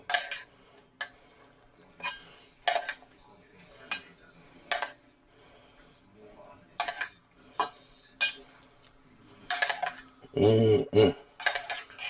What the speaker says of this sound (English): So I'm gonna put about half of this over the shrimp, so that way it'll start seasoning it